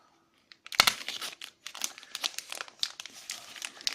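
Phone box packaging is cut open with a cutter, a sudden sharp crack followed by a run of close, faint crinkling and tearing plastic and cardboard rustles, with no voices.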